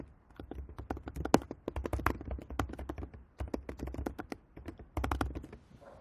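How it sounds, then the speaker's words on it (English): Rapid, light keystrokes on a computer keyboard clatter in an irregular run with short pauses, including presses of the space bar, close and alone without any voices. "you simply hit the space bar before beginning the next sentence"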